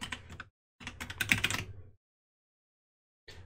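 Keystrokes on a computer keyboard as ipconfig is typed into a command prompt, in two short bursts of rapid clicking separated by a pause, then a brief final tap sequence; no talking.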